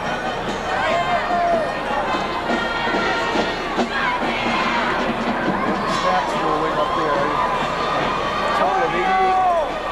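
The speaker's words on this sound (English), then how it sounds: "And a good crowd, good lively turnout for the Turtle Lake Lakers." A lively crowd at a 1988 high school state final football game for the Turtle Lake Lakers, at halftime, cheers and shouts, with children's voices and constant babble close by and loud.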